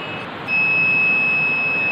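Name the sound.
buzzer beeping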